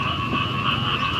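Frogs croak in the morning as a dense, continuous chorus of rattling calls, loud and close, with no voices.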